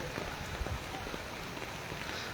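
Torrential rain falls in Taunsa Sharif as a dense, even hiss with occasional soft drop impacts, a steady, moderately faint downpour with no voices.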